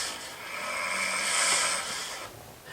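A person snores at home, a breathy rasp swelling and fading over a few seconds, recorded close and fairly quiet with no talking.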